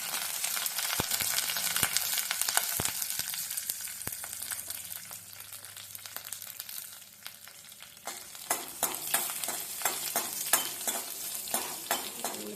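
Curry leaves and garlic sauté in a tablespoon of oil, a steady sizzle broken by sharp clinks and scrapes of a spoon stirring in the pan, heard close and without any talking.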